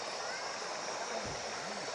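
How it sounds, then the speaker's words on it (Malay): Continuous rushing roar of river rapids beside a campsite, steady and broadband, with a faint voice briefly under the water noise. "jeram sungai ni."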